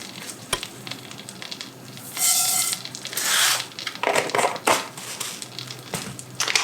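Mustard seeds hit hot butter in a pan and burst into loud, crackling sizzling, with sharp popping surges coming and going over a steady frying hiss.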